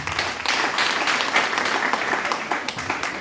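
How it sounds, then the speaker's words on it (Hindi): Dense, steady audience applause at an RCM royalty achievers stage event, many hands clapping close and loud for the full duration with no break. "एक बार ताली बजा दीजिए।"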